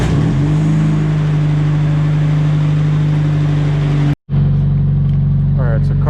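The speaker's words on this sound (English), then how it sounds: "Alright, so car started." A Chevrolet S15 truck engine, freshly repaired with a replaced lifter, turns over and settles into a steady loud idle, its low rumble running continuously apart from one brief dropout.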